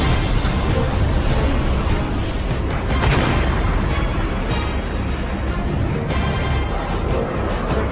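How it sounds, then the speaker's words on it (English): A sustained, dense roar of booming blasts with a heavy low rumble, loud and continuous throughout, no voices. "Three huge explosions light up the sky."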